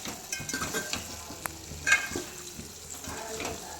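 Egg garlic masala is stirred and scraped in a frying pan with a steady sizzle, spoon strokes rubbing through the mixture, one sharper clink near the middle, no talk.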